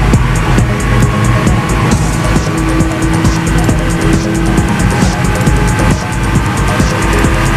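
A 520 horsepower Porsche at high speed on the Autobahn, a loud, sustained engine and road roar with wind rush, steady and close, with no talking.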